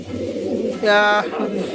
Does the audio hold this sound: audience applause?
no